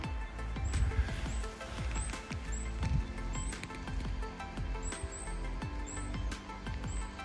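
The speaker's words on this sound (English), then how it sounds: "can hear the robins chirping" Robins chirping in short, high, repeated calls, scattered through the clip over a steady low background rumble, on a walk in the Holme Valley.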